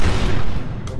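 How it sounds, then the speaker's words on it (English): Explosions in the video game Bridge Constructor Portal, a loud, dense rumbling boom that runs the full second and then tails off. "Ignore the explosions."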